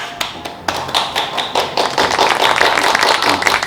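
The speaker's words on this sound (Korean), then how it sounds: "자, 박수 한번" Audience clapping in a classroom to welcome a science teacher, Hwang Ho-cheol: a few scattered taps at first, then the room breaks into steady, dense clapping that keeps building and fills the space.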